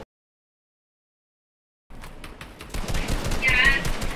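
Rapid gunfire from the Fortnite video game bursts in after a silent opening, with quick repeated shots that grow louder toward the end, amid game sounds and some voices.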